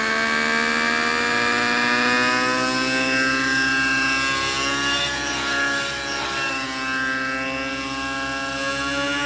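A nitro RC helicopter engine whines loudly and continuously with a steady high-pitched tone that rises and falls slightly as the model flies big loops, with no talk.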